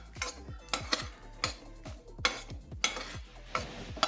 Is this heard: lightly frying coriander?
yes